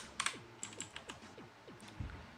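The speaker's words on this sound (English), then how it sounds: "Got my mechanical keyboard here because I feel like it." Keys clatter on a mechanical keyboard in a quiet room, a brisk run of crisp clicks at close range with no talk.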